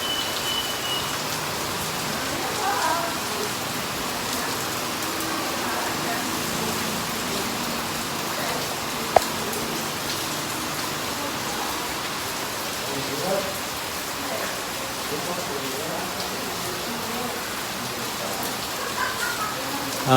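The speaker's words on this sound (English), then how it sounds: "Another downpour" A heavy downpour in Bac Lieu, South Vietnam, hisses steadily and evenly for the whole stretch, with a sharp click midway and faint voices and traffic beneath the rain.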